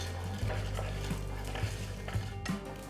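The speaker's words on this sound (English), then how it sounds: "To the pan add 1 tablespoon of oil, 1 teaspoon of chana dal, 1 teaspoon mustard seeds, 1 teaspoon cumin seeds and roast them well." Chana dal, mustard seeds and cumin seeds roasting in a tablespoon of oil in a pan, a soft continuous sizzle broken by repeated scraping stirs and small clatters, close and quiet, no voices.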